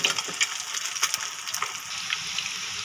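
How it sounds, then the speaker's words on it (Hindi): Fish koftas fry in hot oil with a steady, close crackling sizzle, punctuated by sharp pops and spits throughout. "ऑयल मैंने पहले से ही गर्म कर लिया था। अब इसके अंदर कोफ्ते जो हैं वो फ्राई कर लेते हैं।"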